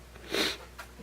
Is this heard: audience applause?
no